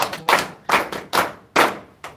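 A small group of hands clapping for a student in a gospel class, five or six distinct, hollow claps in a loose, uneven rhythm, close and alone.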